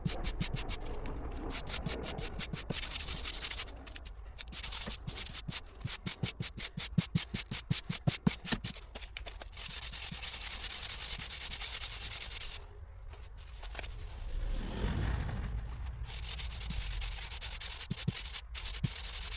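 Sandpaper rubbed by hand over a car fender during wet-sanding repair work, close rhythmic scratchy strokes repeating steadily with brief pauses, no voices.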